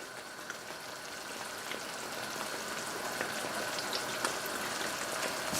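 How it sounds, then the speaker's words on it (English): A shrimp and lobster curry simmers in a pot, a soft, continuous bubbling and light sizzle with scattered small pops, fairly quiet and steady throughout. "It's coming to a simmer."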